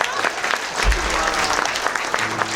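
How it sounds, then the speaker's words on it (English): Steady audience applause, dense and continuous, with a crowd clapping together throughout. "Give them a big round of applause"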